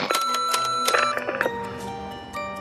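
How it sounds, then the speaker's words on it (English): An answering machine beeping as its tape runs out: a cluster of sharp electronic tones and chimes, loud and close, followed by a sustained tone that fades out near the end. "a loud beep and short message plays when this happens, informing callers their message has stopped recording"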